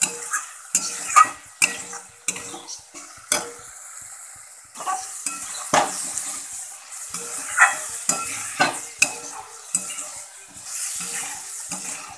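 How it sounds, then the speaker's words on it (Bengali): Potato and pointed gourd are sautéed with ground spices in a pan, with a spatula scraping and stirring in quick, repeated strokes over a soft background sizzle, close and uneven in rhythm. "পরিবারের সমস্ত মশলা দিয়ে আমি কষাতে শুরু করে দিয়েছি"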